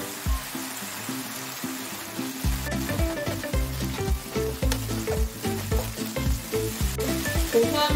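Fernbrake (gosari) stir-fried in a pan, with a steady close sizzle and frequent rhythmic clatters and scrapes of stirring throughout, and no voices.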